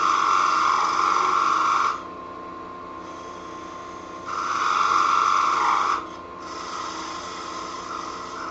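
A parting tool cuts a turning wood piece down to a tenon on a lathe, a loud, close, hissing scrape in two long cuts with a steady motor hum between them.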